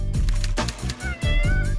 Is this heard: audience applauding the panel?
no